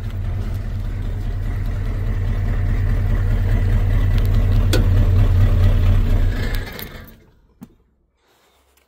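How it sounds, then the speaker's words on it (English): A Ford F250 pickup's engine idles with a steady low rumble for several seconds, then chugs down and stalls in gear, leaving near silence apart from a brief knock. "you actually stalled it while it was in gear"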